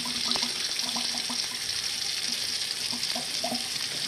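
Liquid drains from a can into cooking food in a kitchen, a steady soft splashing trickle mixed with light sizzling, heard alone and fairly quiet.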